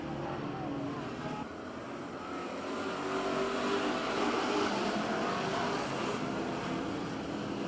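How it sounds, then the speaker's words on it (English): Pure stock race cars at Placerville Speedway running through the corners and down the back straightaway, a continuous, fairly distant engine drone that builds toward the middle and stays steady, with no talking heard. "Through the first set of corners, down the back straightaway, Jinkerson goes"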